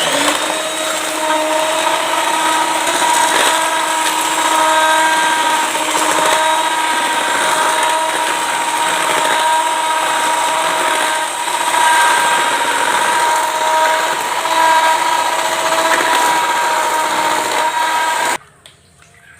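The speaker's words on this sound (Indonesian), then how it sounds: "Lalu kita mixer." An electric mixer whirs steadily for about eighteen seconds as it beats eggs, sugar and butter for panada dough, a loud, even motor drone with slight wavering before it cuts off abruptly.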